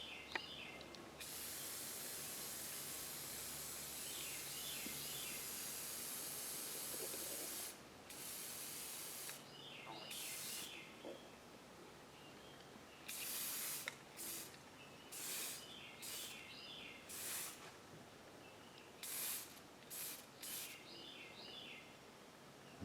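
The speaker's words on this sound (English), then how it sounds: "I'm going to spray on here, and I'm going to spray just down to about here, real lightly" Repeated spray-paint bursts on a carved wooden Native American bust, some long and steady, others quick puffs in an uneven rhythm, with brief quiet gaps between them.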